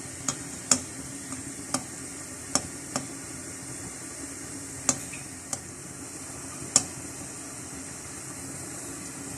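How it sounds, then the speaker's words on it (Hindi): Gulab jamun balls deep-frying in hot oil in a kadai, a faint steady sizzle with sharp spoon clicks tapping at irregular intervals. "ऑयल को हिलाते रहेंगे चम्मच से, ताकि ये चारों तरफ से अच्छी तरह से फ्राई हो जाए।"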